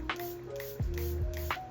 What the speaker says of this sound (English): This is the Huda Beauty setting spray. I just have it in this container because this container spray is better.